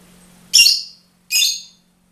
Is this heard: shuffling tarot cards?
no